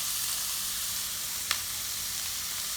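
Fresh chopped garlic sizzles steadily in a hot pan, a continuous even frying hiss with one brief sharper pop near the middle, no talking.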